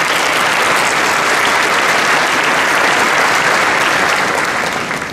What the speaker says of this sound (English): So a round of applause for the great OCE.